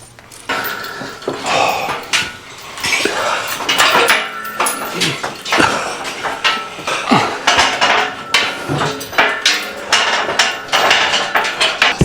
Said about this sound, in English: it's good someone tipped all these screws out so I can pick them up easily